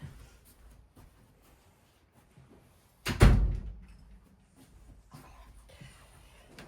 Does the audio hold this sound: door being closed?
yes